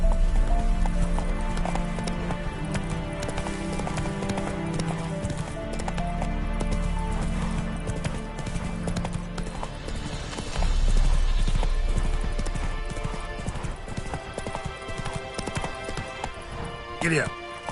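Horse hooves clip-clopping at a steady gallop in The Witcher 3 on PS5, a continuous rhythmic beat with occasional whinnies, game music and ambience running underneath throughout.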